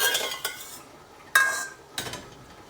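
A plastic jar scraper runs around the inside of glass jars packed with dilly beans and brine, giving a few close, brief clinking scrapes with pauses between them.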